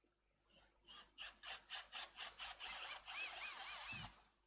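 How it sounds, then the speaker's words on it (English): A drill whirs in a series of short, rhythmic pulses while drilling the center of a vase, then runs in one longer steady burst before stopping; close and fairly loud. "Get out the drill and drill the center."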